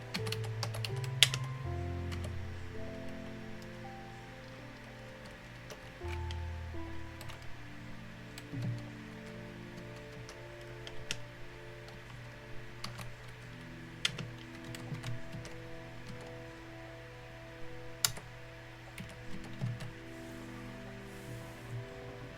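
Rapid, fairly quiet keystrokes on a computer keyboard in uneven bursts, set against a soft sustained musical background.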